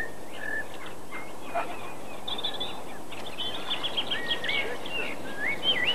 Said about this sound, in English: The predominant sound today is birdsong.